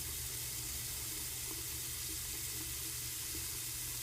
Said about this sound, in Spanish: enjuáguese bien con agua tibia